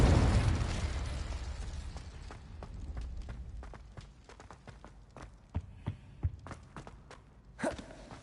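Confringo fire spell explosion in Hogwarts Legacy, a strong blast at the start decaying into a rumble, followed by scattered sharp crackles, taps and small pops as debris settles.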